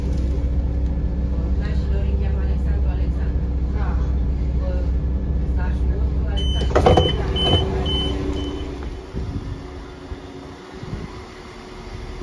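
West Midlands Railway two-carriage unit 172103, running from Kidderminster to Stratford-upon-Avon, pulls away with a steady loud diesel drone and hum that swells, then fades and thins as it departs.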